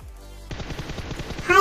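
Video game gunfire erupts after a brief quiet: one rapid automatic burst of about a dozen evenly spaced shots, loud and close, with a faint tonal game sound at the end.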